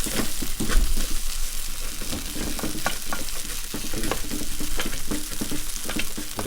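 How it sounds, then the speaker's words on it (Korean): Squid stir-fries in oil in a pan with a steady, dense sizzle and frequent clattering scrapes of a utensil stirring, close and fairly quiet. "그럼 우리가 그냥 볶을까요 이거? 볶아요. 그게 낫겠죠. 기름 넣고 볶는 게."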